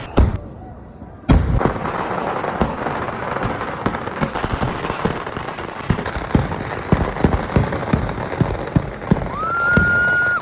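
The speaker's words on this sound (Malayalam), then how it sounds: "നമുക്ക് ഫസ്റ്റ് തിരുവമ്പാടിയുടെ വെടിക്കെട്ട് കാണാം." Thiruvambadi's vedikkettu fireworks at Thrissur Pooram 2025, watched from a rooftop, erupt as a loud, dense barrage of rapid crackling bursts and booming thuds that continues without pause, with voices heard now and then.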